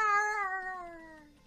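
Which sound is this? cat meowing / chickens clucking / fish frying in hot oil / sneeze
cat meowing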